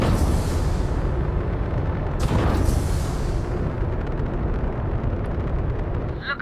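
Spaceship missile explosions in the video game Starfield, a continuous rumbling barrage of heavy booms with a sharp blast swelling midway, loud and sustained, with faint voices beneath.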